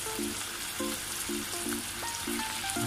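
Chicken feet sautéing in garlic and onion for kalderetang paa ng manok, a soft even sizzle running throughout with faint tonal background hum and no speech.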